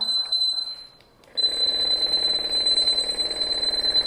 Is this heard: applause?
no